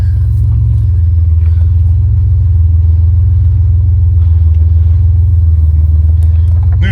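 A Buick Grand National with a newly installed engine drives along, its deep steady rumble loud and close throughout as the car cruises at a constant pace.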